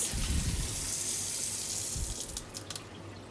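Tap water runs steadily into a sink as cucumbers are rubbed and washed for dill pickles, a continuous close hiss with soft splashes and a few small knocks from handling.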